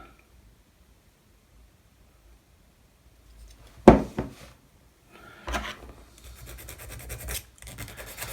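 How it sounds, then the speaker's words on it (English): A hand file rasps against the bow section of a Yamato model ship, in short scraping strokes that start after about three seconds of near silence and continue intermittently at close range. "it's just a case of just keep filing it until you're a lot more happy with the fit"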